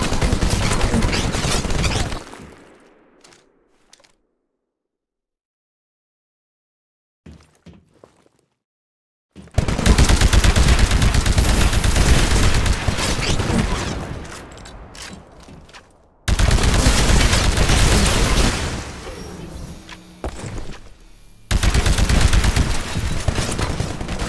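In the Titanfall video game, an anti-Titan weapon fires at a Titan in loud, dense bursts of gunfire. The bursts are separated by a quiet gap and abrupt cuts between volleys.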